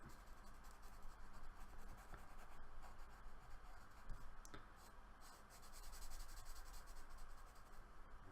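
A pen or marker inking a drawing of Bumblebee, blacking out large areas with steady scratchy scribbling strokes, close and continuous with no talking.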